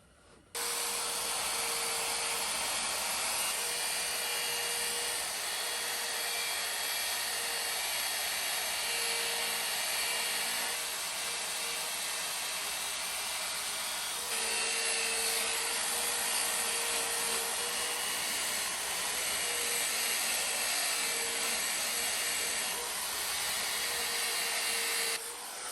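A steady, loud machine whine runs almost continuously, a car polisher buffing a truck's paint, droning at an even pitch with a slight shift partway through, no voices.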